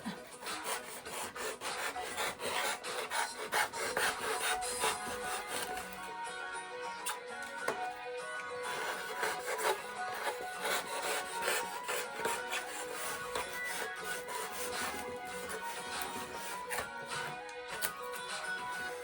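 Carved foam edge being bevelled for a Pokemon diorama, a steady, close rasping and rubbing that runs continuously in dense strokes, alone without talk.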